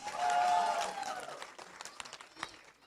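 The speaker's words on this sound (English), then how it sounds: "Big round of applause to my boys!" Audience applause for a boys' group dance at a Diwali celebration, a burst of clapping that swells early then thins into scattered claps with a voice over it.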